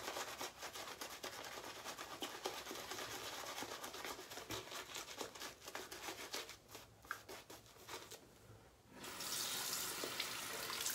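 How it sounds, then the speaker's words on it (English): Water runs steadily from a bathroom tap, a continuous hiss that thins out briefly near the end and then comes back stronger, used to wet a shaving lather; no one speaks. "Just want to get a little bit more water in this lather."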